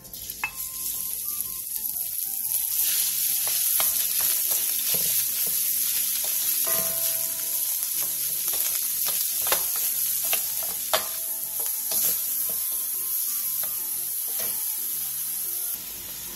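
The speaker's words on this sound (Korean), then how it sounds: "넓은 냄비에 참기름 2스푼을 두른 뒤 소고기 양지를 넣고 중불에서 겉면이 익을 때까지 볶아주세요." Beef brisket stir-fries in sesame oil in a wide pot over medium heat, giving a continuous close sizzle with scattered clicks and scrapes from stirring, and no talking.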